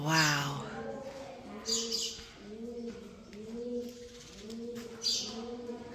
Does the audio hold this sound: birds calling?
yes